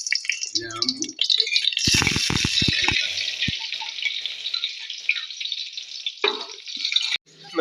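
Ghee and coconut oil splutter and sizzle loudly in a hot pan, with sharp popping crackles near the start and a continuous hiss that keeps going, ending with a brief scrape.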